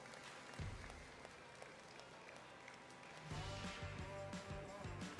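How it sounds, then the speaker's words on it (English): Applause for youth exhibitors at a cattle show, a steady wash of clapping from a crowd that swells louder toward the end, with some low thumps and background noise mixed in. "Let's give them a round of applause, if you would."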